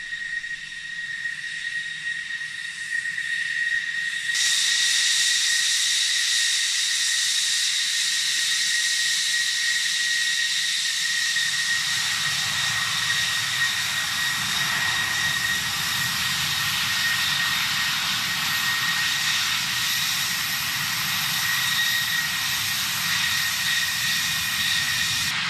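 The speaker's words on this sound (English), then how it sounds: "looking at the Italian" An Italian F-104 Starfighter jet gives a sustained, loud, hissing whine with steady high tones. It starts abruptly a few seconds in and thickens with a deeper rumble partway through, holding unbroken to the end.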